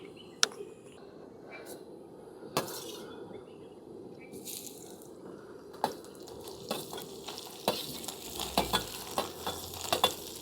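Soya chunks (meal maker) frying in oil outdoors give a steady soft sizzle, with sharp clicks and pops scattered through it that grow busier toward the end.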